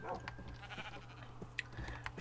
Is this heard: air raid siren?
no